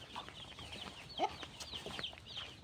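Egg-laying hens cluck and chirp in short, scattered calls around a backyard coop, with a slightly louder squawk partway through over a soft steady background.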